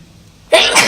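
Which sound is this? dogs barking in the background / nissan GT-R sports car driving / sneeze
sneeze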